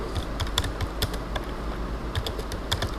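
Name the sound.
typing code on a computer keyboard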